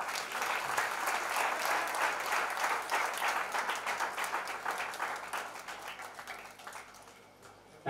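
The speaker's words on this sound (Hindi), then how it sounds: "अरे इतना बड़ा चेक मिला है तालियां तो बजाओ" An audience applauds at a felicitation ceremony for the Cricket Association for the Blind in India, a dense, steady round of clapping that carries on for several seconds before thinning out toward the end.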